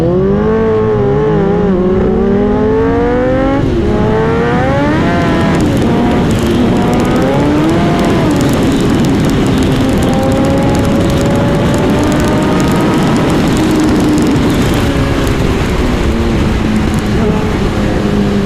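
A BMW S1000R and a Kawasaki Ninja ZX14R ridden hard roar loudly and continuously, their engine notes climbing and dropping through repeated revving and gear changes up close.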